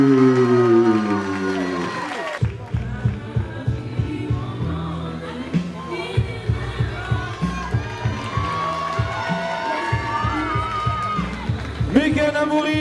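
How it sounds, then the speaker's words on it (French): A crowd at a savate bout in La Ferté-sous-Jouarre cheers and shouts for a fighter's entrance over loud music with a pulsing beat, while an announcer talks over the noise. "J'aimerais qu'on l'applaudisse très fort"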